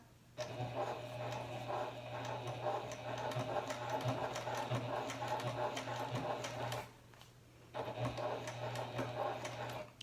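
A Janome HD9 sewing machine stitches in two runs, a fast, steady mechanical whir with a rapid needle tick, close and clear, separated by a brief pause.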